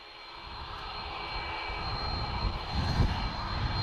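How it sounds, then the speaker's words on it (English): A Boeing 737 MAX jet with LEAP-1B engines at an airport, a steady roar with a high whine that swells slightly louder toward the end, nearby and continuous, with no speech. "So this is the latest generation 737 LEAP 1B engines."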